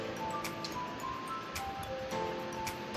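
A spoon clinks lightly and repeatedly against a glass while stirring turmeric powder into water, soft, irregular taps over a faint background hum.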